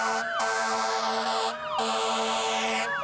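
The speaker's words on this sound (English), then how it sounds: "That's the sound of police cars escorting Botsford fire trucks from the Honan Funeral Home in Newtown." Police car sirens escort Botsford fire trucks away from a funeral home in Newtown, Connecticut, with repeating wailing and yelping tones held steady and moderately distant, and no voices over them.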